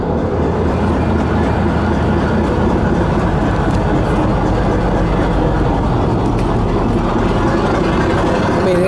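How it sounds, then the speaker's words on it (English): A big Caterpillar diesel engine idles aboard a 68-foot commercial fishing boat, making a continuous, loud, dense mechanical rumble that stays steady throughout, with no talking. "Oh, is it idle down now? Sounds good. Big old Catepillar motor."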